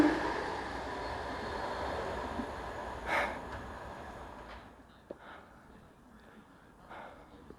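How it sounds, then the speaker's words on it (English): A train rumbles past the platform at Ashley Down station in Bristol, England, with a broad steady roar that fades away, leaving quieter ambience with a few faint clanks. "Oh, and there's a train."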